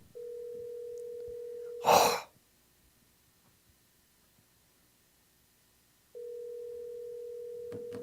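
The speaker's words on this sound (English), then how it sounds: "Come on, Jeannie, answer the phone." A telephone rings unanswered, heard as a steady ringing tone through the receiver: two long tones separated by a pause of several seconds.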